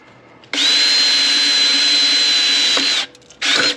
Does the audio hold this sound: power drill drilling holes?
yes